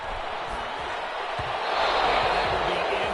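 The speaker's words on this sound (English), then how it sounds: "Some applause for the defense there." A virtual stadium crowd in Madden 21 football roars in approval of a defensive play, a continuous broad wash of cheering and clapping that swells louder midway.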